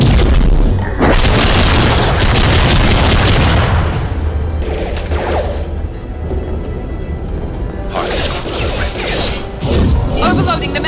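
A mech being overloaded and damaged in the video game Mass Effect 2, heard as loud, dense combat booms and crashing impacts that fill the whole stretch, with brief lulls and talk mixed in.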